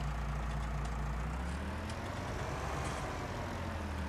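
A brand new tractor in a farming video game idles with a steady, continuous low engine drone that stays constant throughout, with no speech.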